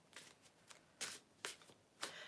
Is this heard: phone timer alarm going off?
no